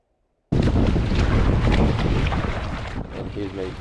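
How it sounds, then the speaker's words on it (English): An Epic V14 surf ski is paddled downwind across waves, with silence suddenly giving way to loud wind buffeting and rushing, splashing water that runs to the end. "Here's me paddling the Epic V14"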